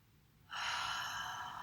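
A deep breath is drawn in during a gentle hatha yoga back-care class, a soft breathy inhale that begins abruptly after a quiet moment and holds steady, close and alone.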